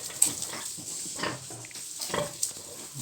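Soft, low grunts of a sow giving birth repeat close by in short bursts, with a few faint piglet-like squeaks in a quiet barn-like space.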